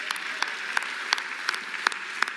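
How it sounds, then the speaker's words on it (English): An audience at the CAF Awards 2025 ceremony claps for the hosts, rhythmic claps ringing out over a faint, continuous crowd hum, at moderate distance and with no one speaking. "Can we clap hands for our excellent MCs?"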